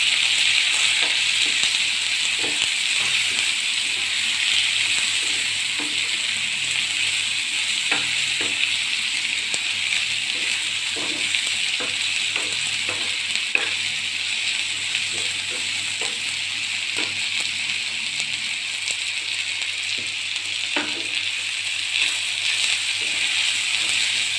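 Chopped tomatoes and onion fry in a pan, giving a constant bright sizzle with occasional light scrapes and taps of a spoon as they are stirred.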